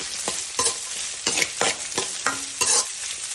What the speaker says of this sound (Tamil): அதுக்கப்புறம் இஞ்சியும் பூண்டும் சேர்த்து மறுபடியும் கலக்கி விட்டுருங்க